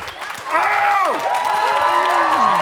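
A sell-out crowd at Turner Arena cheers and applauds during a darts match, a dense roar with clapping and whistles, while a voice talks over it nearby.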